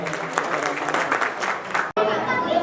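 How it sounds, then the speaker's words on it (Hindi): Crowd at a district-level Koli community conference in Panipat applauds steadily, a dense wash of clapping mixed with chatter that cuts out for an instant, then resumes. "अनुरोध है, तालियों का सहयोग करें।"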